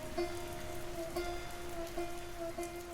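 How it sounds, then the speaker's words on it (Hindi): Heavy rain pouring down over village farm fields, a steady dense hiss close by with no voices. "ये अचानक इतनी तेज बारिश सब मेरे ही खेतों पर बरस पड़ी"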